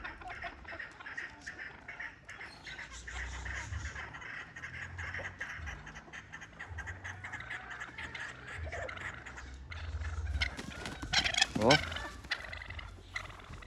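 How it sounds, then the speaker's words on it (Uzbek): A Caucasian pheasant rooster gives loud, close calls among other domestic fowl, with a rattling burst near the end. "Kavkaz fazan, xo'roz."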